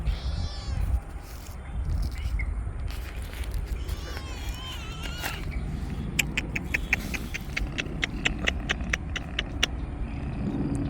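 A cat meows a few times amid steady outdoor background noise and distant traffic, with people talking nearby.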